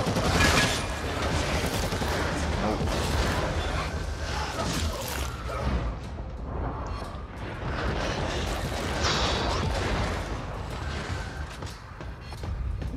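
Friendly gunfire in a Warhammer 40k Eternal Crusade PvE lair battle, dense overlapping bursts and blasts in a loud continuous barrage of weapon noise.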